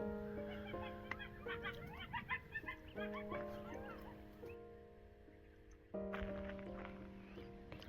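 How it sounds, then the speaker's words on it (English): Morning birdsong at a campsite, with chirps and trills scattered over a backdrop of sustained, overlapping coyote wails and yips. "The birds are starting to sing this morning."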